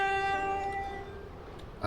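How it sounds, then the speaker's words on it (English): Train horn on a Roblox Stepford County Railway train sounds a steady multi-tone blast for nearly two seconds, loud and close, then cuts off with a brief thump. "You might hear me sounding my horn at other trains."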